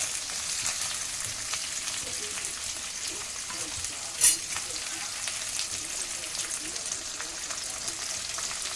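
Beans, capsicum and onion stir-frying in a pan for Hakka noodles make a steady, close sizzle with a brief louder clatter near the middle, continuous throughout.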